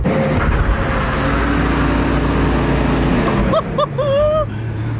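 A warmed-up car engine runs nearby with a steady low drone that shifts in pitch, and people talk briefly over it toward the end.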